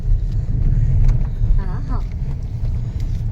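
A small car crammed full of passengers drives along with a steady low engine rumble and road noise throughout, while a voice briefly speaks over it.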